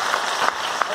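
Audience clapping at a business training seminar for a direct-selling company, a dense steady patter filling the room, with a voice briefly breaking through over the applause.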